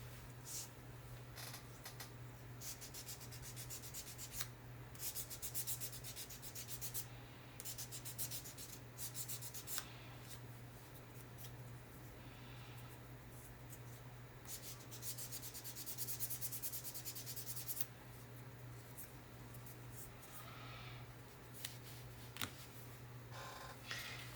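Sandpaper rubs across a wooden fence piece in long, steady strokes, a soft rasping scratch that comes in repeated passes with brief pauses, close and quiet, over a constant low background hum.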